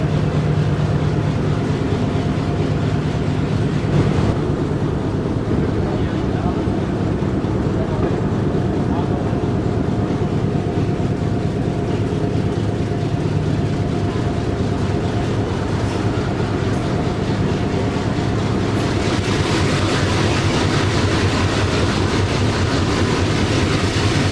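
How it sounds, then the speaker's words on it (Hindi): A passenger train on the Rawalpindi to Havelian line pulls out of Sangani railway station after giving way to the Jaffar Express, its continuous rumble and rail clatter steady and loud throughout, growing brighter near the end. "तो जाफ़र एक्सप्रेस को रास्ता देने के बाद ट्रेन हमारी निकल रही है संगानी रेलवे स्टेशन से।"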